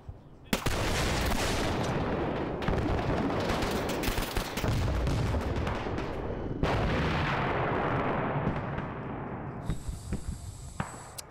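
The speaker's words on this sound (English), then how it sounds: "Shoot them, you freaking buffoon! With your gun!" Loud, sustained gunfire from a modern-day military airfield seizure operation in a video game, dense overlapping shots and bursts rolling on for about ten seconds before tapering into quieter crackle with a high electronic tone at the end.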